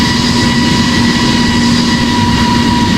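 German Air Force Airbus A350 on its takeoff roll, a loud, constant broadband engine roar with a steady low hum and a thin whine above it, unbroken and close.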